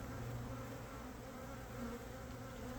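Honey bees drone steadily around an open hive during a sugar shake check for Varroa mites, a dense continuous buzz that stays close and even throughout, with no voices.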